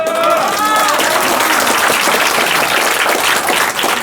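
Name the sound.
audience applause at a political lecture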